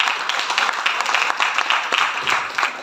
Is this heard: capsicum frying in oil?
no